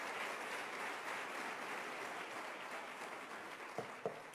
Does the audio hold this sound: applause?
yes